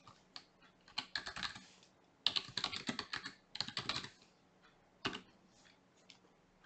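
Bursts of quick keystrokes clatter on a computer keyboard as a website name is typed, several short runs separated by pauses, close and clear with no talking.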